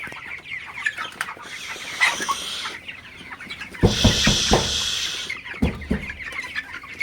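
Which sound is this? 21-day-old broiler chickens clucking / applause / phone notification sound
21-day-old broiler chickens clucking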